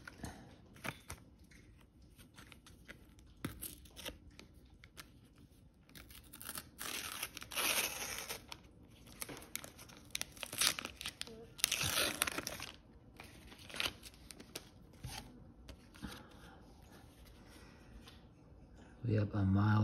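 A Panini NBA sticker pack is ripped open along its sides, bursts of crinkling, tearing foil and paper coming close to the mic, scattered between quieter handling noises while someone talks.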